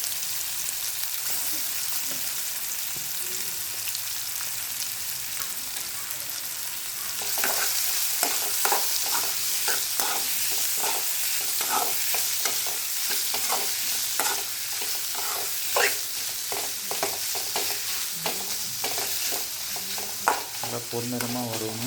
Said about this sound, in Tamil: இப்போ இந்த கருவாடு பொரிச்ச எண்ணெயிலே வெங்காயம் போடலாம்.